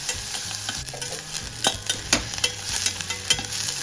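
Stirring and sautéing in a pan while preparing a coconut milk butter beans masala gives a close, uneven sizzle with repeated scraping clicks of a spatula against the pan and no talk.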